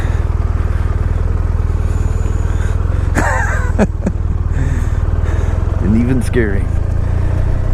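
A BMW R1200RT motorcycle passing on the road, its engine note a steady loud rumble under a rider's helmet-cam wind and engine noise, with someone talking throughout.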